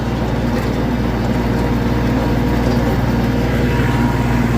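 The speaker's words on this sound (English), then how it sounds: "Tractor's pretty quiet too." A tractor engine runs steadily while planting hay in a field, with a low, continuous drone, close and unchanging.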